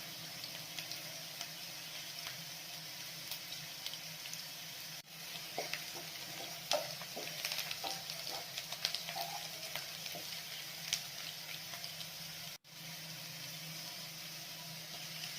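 Onions sizzle and fry in a pan while being stirred, a steady close crackling hiss with occasional scraping clicks from the stirring utensil, no voices.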